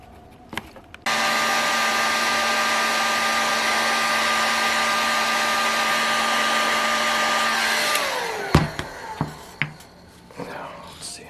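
A heat gun blows steadily at a Saito FA-100T model engine part for about seven seconds, loud and continuous with a fixed whine, then shuts off and winds down, followed by a few clicks and knocks from handling the part.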